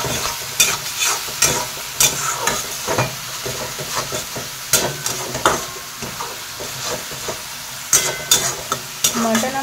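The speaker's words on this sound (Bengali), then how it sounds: "এগুলো এখানে আবার ভালো করে কষিয়ে নেবো" Tomato and green chilli paste sizzles and fries in a pan for mutton curry, with steady hissing and repeated scraping stirs of a spoon, close and continuous.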